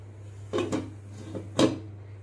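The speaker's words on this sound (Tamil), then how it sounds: "இப்போ நெக்ஸ்ட் இந்த மூடியை போட்டு மூடிடலாம்" A lid is set onto a pan for baking a homemade wheat cake, making a few quiet metallic clinks and one firmer clatter as it settles, close by over a low steady hum, with no talking.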